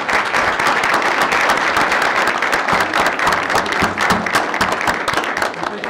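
Audience applause fills a city council meeting chamber, a steady dense patter of many hands clapping at moderate loudness, with a few voices faintly mixed in beneath.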